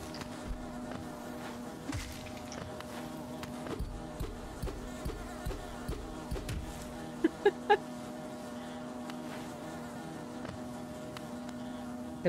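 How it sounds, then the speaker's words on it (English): A buzzing insect enemy in the video game Hollow Knight sounds as repeated short buzzing bursts, then a quick cluster of sharper hits, over a steady musical drone. "The buzzing man is driving me crazy."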